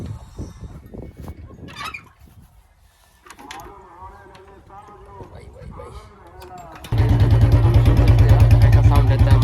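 A 2014 Royal Enfield Bullet Classic BS3 motorcycle with a Punjab C Band exhaust pipe. Someone talks at first, then the engine catches and settles into a loud, steady, close thumping idle.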